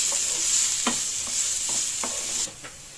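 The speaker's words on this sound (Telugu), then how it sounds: "వెల్లుల్లిపాయ ముక్కలు సన్నగా తరిగి పెట్టుకున్నది వేసుకొని వేయించేసుకోవాలి." Finely chopped garlic fries in hot oil with a bright steady sizzle and a few short stirring scrapes, close and clear; the hiss drops sharply near the end.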